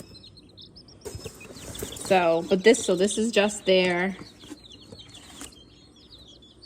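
Hatchery layer-assortment chicks peep and chirp in high, thin calls while someone talks over them at close range.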